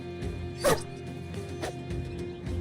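A single dog bark from the video game Battle Brothers, one sharp yelp standing out over a steady musical backing, with softer sounds afterward.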